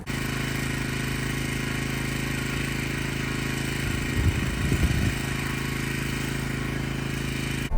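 A Honda GX270 9 horsepower engine runs on a rented machine at an allotment, a steady, close mechanical drone with a rougher, louder stretch partway through and no voices.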